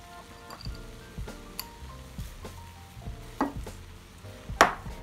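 A spoon stirs corn flour farofa in a pan, making close, irregular scraping and soft gritty sweeps with a few sharp clinks against the pan, steady low kitchen hum underneath.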